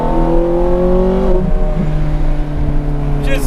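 A Ferrari F430 Scuderia fitted with a 6-speed manual gearbox revs loudly from the cabin while driving, its engine note sliding through strong harmonic tones, then easing and climbing again.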